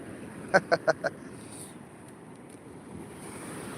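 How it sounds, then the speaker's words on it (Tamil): Sea waves washing onto the beach at Mahabalipuram, a steady low rush of surf with some wind noise, after a short run of four sharp clicks near the start. "பாருங்கள் எவ்வளோ தூரம் வருது பாருங்க கடல்"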